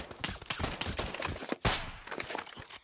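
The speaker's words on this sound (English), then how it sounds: "they are heavy firing at me!" Enemy gunfire in the VR shooter Pavlov Shack, a dense, continuous burst of rapid shots at moderate distance, with one louder crack near the middle and no speech.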